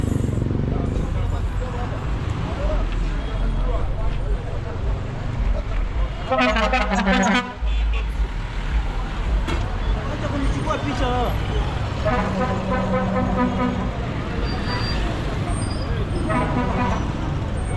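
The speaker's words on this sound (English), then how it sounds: "Not traffic, but there are lots of vehicles here." Busy street crowded with cars, buses and trucks, a steady wash of engine and road noise throughout with a few short horn-like tones and passing vehicles close by, people's voices mixed into the din.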